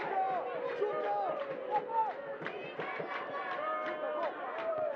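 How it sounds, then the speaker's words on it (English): Malawi supporters sing in a vocal stadium crowd during a COSAFA U20 championship final against South Africa, their chant rising and falling under a commentator's talk. "the crowd here for Malawi is really vocal. You can clearly hear them singing here"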